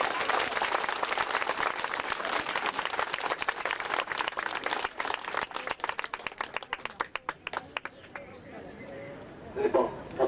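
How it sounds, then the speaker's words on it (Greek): Warm applause from a crowd at a 1997 parliamentary protest gathering, dense clapping that thins into a few scattered individual claps before a voice speaks at the end. "Ένα θερμό χειροκρότημα."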